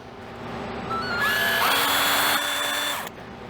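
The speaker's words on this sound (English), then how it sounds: "I'm going to go ahead and drill into these" A power drill bores into freeze-dried Comice pear slices, its motor whine rising and holding steady for a few seconds before cutting off, loud and close with no talking.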